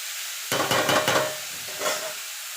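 Vegetable chop filling stirred in a frying pan, with several close scraping strokes over a soft sizzle that fades after a second pass.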